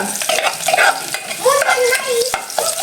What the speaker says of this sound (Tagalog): Unahan na tagisa ni sardinas.